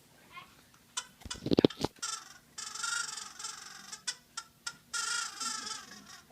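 A person imitates turkey and quail calls with a hand-held caller, producing a series of short clucking and yelping bursts, close and fairly loud, with pauses between.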